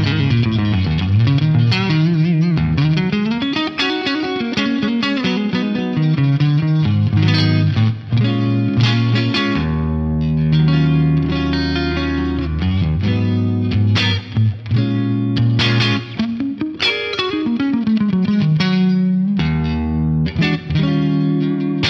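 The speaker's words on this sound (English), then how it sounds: "So this is the studio feedback compressor. All I've done is turn the ratio up to 4." Distorted electric guitar chords and riffs through an FM3 studio feedback compressor at 4:1 ratio, played continuously, loud and full with a compressed, thick tone and steady sustain.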